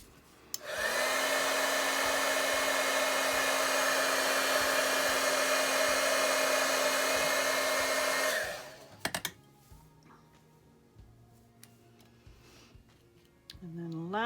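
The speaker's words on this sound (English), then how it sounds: "I'm going to point the heat gun away from my fingers" A heat gun blows hot air over a glazed die-cut flower shape for card making, a loud steady whooshing hum lasting about eight seconds before switching off, followed by faint handling clicks.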